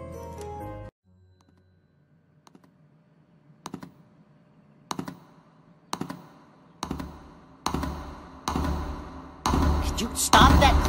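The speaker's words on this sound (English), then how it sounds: "Could you stop that clicking?" Repeated sharp clicks in an animated pony cartoon, starting sparse and quickening into a loud, crowded run of taps, some with faint sustained tones behind them.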